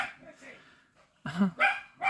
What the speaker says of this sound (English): my two dogs are starting to bark at everything